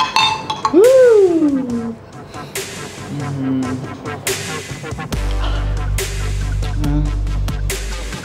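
A bright glass clink rings out during a toast, followed by smaller taps and clatter of glassware, with a voice briefly heard and background music and a low hum in the later part.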